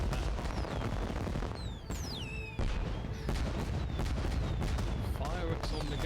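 Fireworks in the city-building video game Cliff Empire, a dense run of loud pops, bangs and whistling streaks bursting over one another, with someone talking over them.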